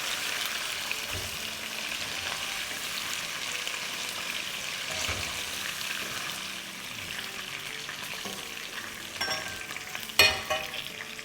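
Chicken pieces fry in hot oil with a continuous, fairly soft sizzle and spatter, a few faint stirring scrapes and a sharper clatter near the end.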